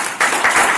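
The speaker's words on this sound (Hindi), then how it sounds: "तालियां।" Applause at a school celebration of Gandhi and Shastri Jayanti, a brief burst of clapping from a gathered audience, loud and close, rising sharply after a short lead-in.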